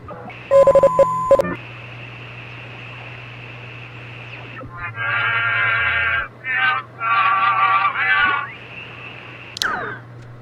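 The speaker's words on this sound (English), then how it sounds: "There's a dial tone" Dial tone and touch-tone dialing on a telephone in the Oxenfree video game: a steady tone holds, then a burst of loud keypad beeps comes early, followed by a run of clustered dial tones near the end.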